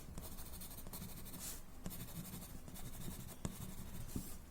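Steady, close scratching of a graphite pencil shading on paper, a continuous soft rasp with small rhythmic strokes and occasional light taps, with no other sounds.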